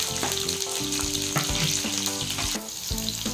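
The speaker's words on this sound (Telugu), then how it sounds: "ఇప్పుడు పచ్చిమిర్చి వేస్తున్నాను. ఇప్పుడు వెల్లుల్లిపాయలు వేస్తున్నాను" Green chillies and garlic fry in hot oil, giving a loud, continuous close sizzle with crackles and occasional stirring.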